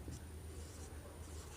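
Chalk or a pen writes on a board or paper during a class-10 trigonometry lesson, a soft continuous scratching over a low background hum, faint and close.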